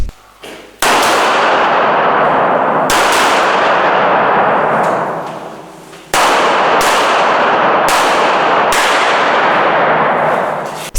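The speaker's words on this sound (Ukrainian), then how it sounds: "Далі поліцейські подвоє стріляли в мішені." Loud gunshots from police firing at targets ring out in a few sharp blasts, each followed by a long ringing decay, echoing as if on an outdoor range.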